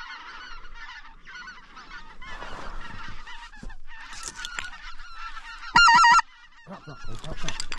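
Geese honk repeatedly in overlapping calls, a flock clamoring at moderate distance, with a sharp loud burst near the end.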